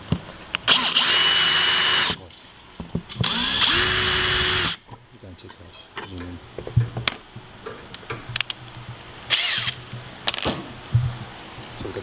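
Two short bursts of a whining power drill boring pilot holes into an aluminium bulkhead wall light, followed by clinks, rattles and handling sounds as small pieces are moved about.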